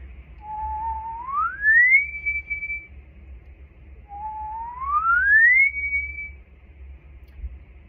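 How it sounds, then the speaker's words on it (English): Two rising whistles, each sliding smoothly from the lowest note up to the highest and holding briefly at the top, spaced a few seconds apart. "you're going to connect your lowest whistle to your highest whistle"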